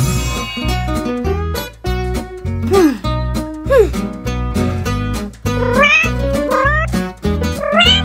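A cartoon cat meows repeatedly in rising, wavering calls over steady, bouncy background music, loud and close.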